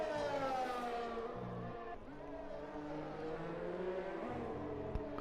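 A race car engine howls at full throttle during qualifying at Silverstone, a steady high-pitched whine that climbs through gears with brief dips at the shifts, loud and continuous throughout.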